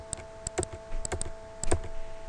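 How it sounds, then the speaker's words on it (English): Keys on a computer keyboard are pressed and the mouse clicks while zooming in an image editor, making a string of sharp, close, irregular taps, some in quick pairs, with quiet gaps between. "I am going to hit Control on my keyboard and hold it down."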